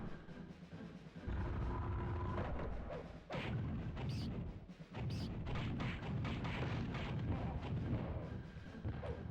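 Bomb blasts in the video game Gauntlet Legends, a dense run of heavy booming explosions, loud and close, breaking briefly around the third and fifth seconds before rolling on.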